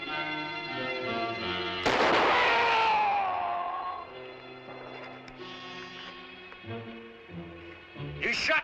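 A rifle shot cracks out loud and sharp once, then fades into a ringing tail, over a sustained orchestral music score from a frontier adventure drama.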